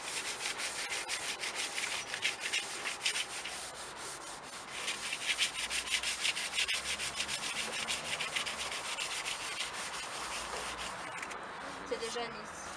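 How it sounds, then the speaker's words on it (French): Sandpaper rubs along the grain of a waxed wooden furniture piece being restored, a steady close-up scratching that runs continuously without pause, with faint voices now and then. "c'est juste prendre le petit papier et poncer dans le sens du bois"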